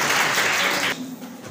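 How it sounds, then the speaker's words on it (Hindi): Brief burst of dense clapping from an audience at a college event in Mau, cutting off abruptly after about a second. "तो एक अपना तालियां बजाएं"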